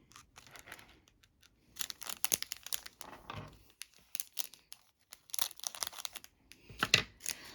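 A sticker being peeled and pressed down over number markings on a paint-by-numbers canvas, heard as quiet, close, intermittent crinkling, tearing and tapping sounds in short bursts with silent gaps between them.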